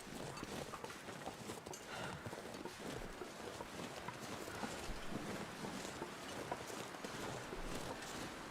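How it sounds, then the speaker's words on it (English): Wind in The Long Dark on the Interloper difficulty, a steady, fairly faint rushing and gusting blow that continues without a break. "Look at this wind."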